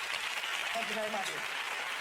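An audience applauds in a steady wash of clapping on the stage of a magic competition TV show, while someone speaks briefly over it.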